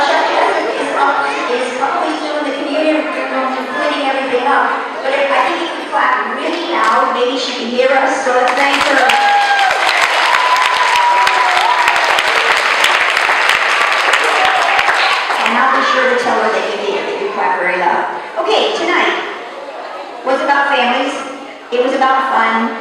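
A burst of clapping from families at an elementary school fun night rises in the middle, roughly seven seconds of mixed applause, with someone talking before and after.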